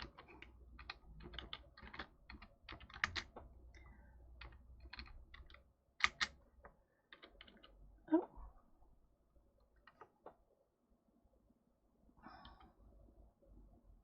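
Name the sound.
typing on a computer keyboard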